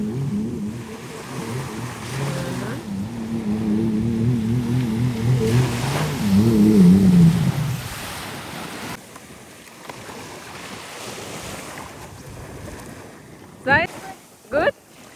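Jet ski engine on the sea off Pattaya beach, a steady revving drone that swells and fades over lapping waves and wind, with a couple of sharp bursts near the end.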